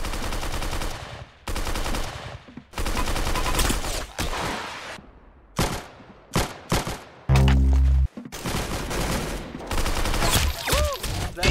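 Rapid bursts of gunfire from a shooter video game, loud and close, with several sustained volleys broken by short gaps and a heavy low thump near the middle.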